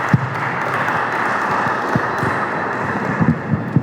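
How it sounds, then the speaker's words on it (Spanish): An audience gives applause at a talk on Durango Cathedral, a moderate, steady patter of many hands clapping in a reverberant room, with a few sharper individual claps toward the end. "Vamos a darle un aplauso y le dejamos la palabra."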